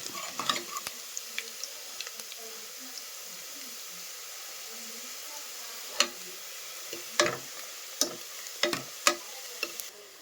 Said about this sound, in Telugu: కరివేపాకు బాగా ఫ్రై అవ్వాలి